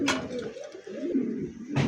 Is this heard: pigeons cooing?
yes